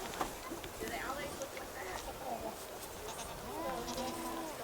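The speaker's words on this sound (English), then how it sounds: "Are any of you guys interested in feeding a baby goat?" A baby goat on a meat goat ranch bleats in a few short wavering calls near the end, close by, while people talk and murmur around it.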